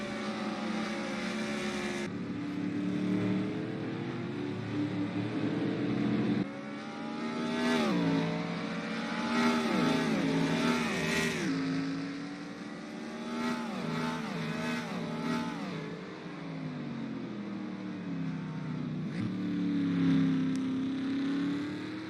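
Race car engines in a racing video game's last chance qualifier, several cars revving and shifting up and down in rising and falling whines that pass close by in overlapping bursts.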